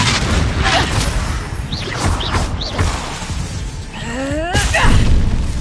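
The Confringo fire-blast spell in Hogwarts Legacy goes off amid combat as booming explosions, crashes and whooshing bursts. Rising magical swoops and clattering impacts pile into a loud, chaotic battle mix.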